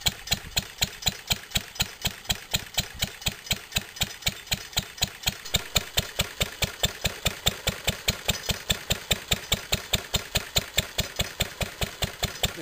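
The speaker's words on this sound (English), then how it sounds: "Just turning off the fuel and it will run out in a minute. The engine will stop." A Bamford stationary engine drives a dynamo at an electric lighting display, its exhaust thudding in a steady, even rhythm of several beats per second, loud and close throughout with no voices.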